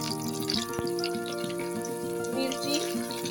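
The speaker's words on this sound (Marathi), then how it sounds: "आता लसूण टाकला" Garlic tempering in hot oil with cumin and mustard seeds for a dill (shepu) bhaji, giving a soft, continuous frying hiss that stays faint and even throughout.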